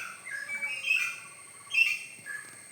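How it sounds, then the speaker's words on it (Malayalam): A bird perched in a tree gives short, high chirping calls at moderate distance, a few bursts spaced irregularly over quiet outdoor background. "അവിടെ കണ്ടില്ലേ ഒരു കിളി അവിടെ ഇരിപ്പുണ്ട് മരത്തിൽ"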